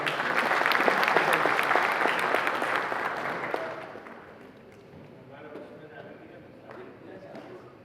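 Audience applause at a Raas Ramzat 2024 event in Leicester, dense sustained clapping that holds for several seconds and then dies down to a softer crowd murmur.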